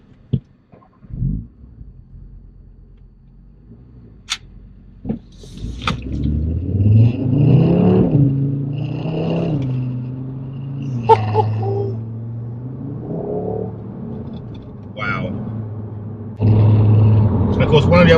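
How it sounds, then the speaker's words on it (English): An Audi RS3's engine note swells as the car accelerates along an open road, heard from inside the cabin as a steady droning rise with intermittent bursts, while a person talks over it throughout. "you can really hear the engine note coming through into the cockpit"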